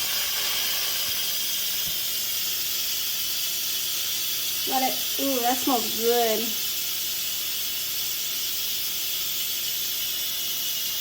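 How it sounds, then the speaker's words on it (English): Pressure cooker hissing steady steam as it depressurizes after cooking hamburger soup, a continuous broadband hiss running throughout while someone briefly speaks over it. "Our hamburger soup is ready to depressurize."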